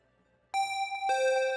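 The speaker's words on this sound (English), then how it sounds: "Now it's a more open bell." A synthesizer glass bell patch with a lengthened decay rings out with an open, sustained tone, struck twice in close succession, the second note layering over the first's lingering ring, with no talking.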